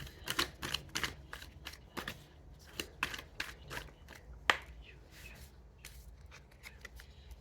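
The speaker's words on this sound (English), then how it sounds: "just gonna cut the deck in half" A deck of tarot cards being cut and shuffled by hand gives a run of quick, crisp riffling clicks and soft flicks close by, fairly quiet, with one sharper snap midway and no talking.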